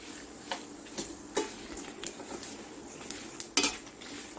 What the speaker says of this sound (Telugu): నువ్వులు కూడా చెట్టుపట్లు ఆడుతున్నాయి వినిపిస్తుందా మీకు